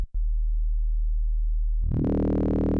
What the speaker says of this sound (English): Sounds like FM.